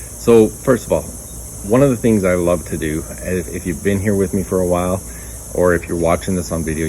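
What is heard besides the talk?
cicadas buzzing in backyard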